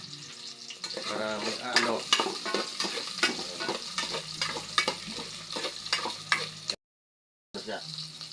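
Ginger sizzles and crackles in a hot pan as it is stirred and sautéed, with repeated scraping strokes and a steady hiss up close, a short silent break near the end, and a brief spoken phrase.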